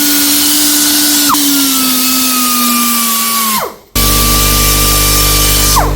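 A Si Fang air sander whines at a steady high pitch against a Honda sport rim, dipping in pitch under load, briefly cutting out, then spinning back up with a loud, close, continuous drone.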